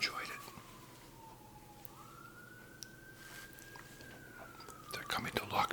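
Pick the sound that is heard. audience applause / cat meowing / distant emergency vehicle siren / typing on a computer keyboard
distant emergency vehicle siren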